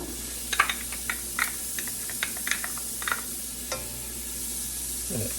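Small yellow onion sizzles in a soup pot for Galician caldo gallego, a soft steady frying hiss broken by scattered clicks and scrapes of stirring, close and fairly quiet, with no talk.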